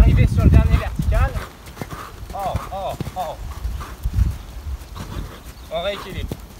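Horse hooves clip-clop on a show jumping course in irregular bursts of footfalls at moderate distance, with someone speaking over them throughout.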